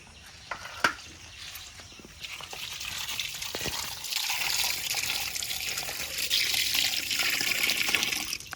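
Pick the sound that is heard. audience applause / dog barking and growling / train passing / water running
water running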